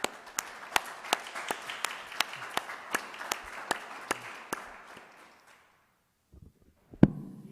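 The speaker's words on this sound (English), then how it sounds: "if the council could give a round of applause for this group" A small group at a city council meeting gives a round of applause, about a dozen sharp, evenly spaced claps from a few hands that fade out, followed by silence and a single thump.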